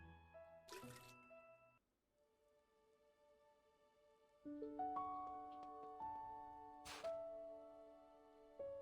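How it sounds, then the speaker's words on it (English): Soft water drips and trickles from watering a plant in the video game Cloud Paws, faint under gentle game music tones and a couple of brief clicks. "Now I need to water the plant."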